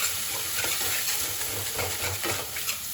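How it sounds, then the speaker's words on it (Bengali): Spice paste for a tilapia curry sizzles and hisses steadily in a hot pan after a little water is added, with soft stirring scrapes throughout, close and without talk. "এখানে আমি অল্প জল মিক্স করে দেবো"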